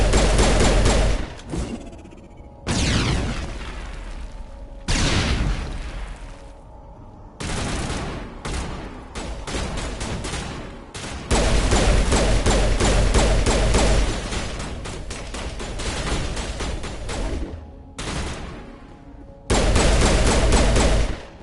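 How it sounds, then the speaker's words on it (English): Gunfire in Mass Effect 1 Legendary Edition on PS5 erupts in loud, repeated bursts of rapid shots and thumps, separated by brief quiet gaps. "He's shooting through that rock."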